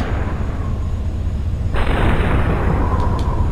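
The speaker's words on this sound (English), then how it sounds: "I'm already getting shot at." Gunfire in the video game Superhot, a sudden loud burst that cuts in partway through over a low rumbling background and carries on with a dense crackle, ending in a couple of brief sharp pops.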